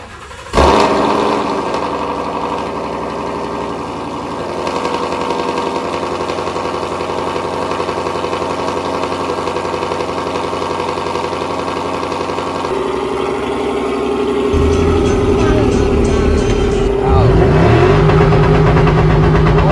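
A car engine with a full Corsa Xtreme exhaust and cat delete fires up with a loud, deep exhaust rumble, idles heavily, then revs harder toward the end, close and loud.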